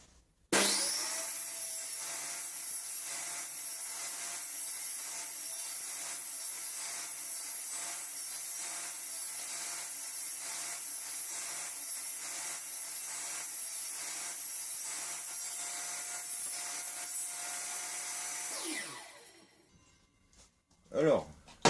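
A saw cuts a wooden circle on a circle-cutting jig while the board is turned by hand, a steady whining rasp lasting about eighteen seconds before spinning down, with someone speaking over it.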